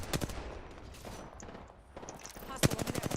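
Rapid bursts of video game gunfire crack in several volleys, loudest in a sharp close burst near the end, with busy game noise between the shots.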